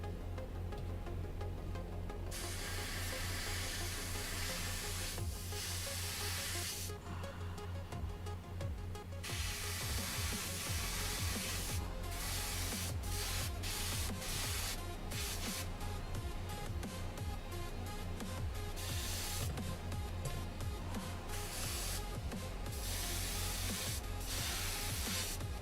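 An airbrush sprays paint onto the tail rotor of a 1/35 AH-1Z Viper model helicopter, a continuous close hiss of air and paint broken by short pauses and rapid on-off bursts.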